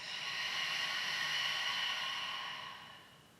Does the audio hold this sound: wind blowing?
no